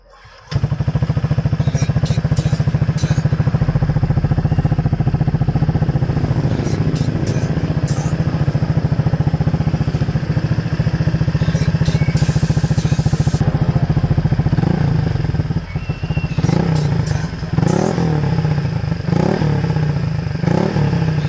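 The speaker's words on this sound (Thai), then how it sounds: "เดี๋ยวสตาร์ทให้ดูก่อนว่าเสียงเป็นยังไงนะครับ" A 2020 Honda PCX scooter fitted with an Akrapovic exhaust runs steadily for about twenty seconds, a loud, close, continuous engine drone with a deep low hum, slight rises in revs and a few sharp clatters near the end.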